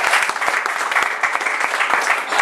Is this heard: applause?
yes